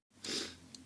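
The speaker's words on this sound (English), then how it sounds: "I'm going to sneeze" A single close human sneeze: a quick intake of breath, then a short, sharp, hissy burst that fades out.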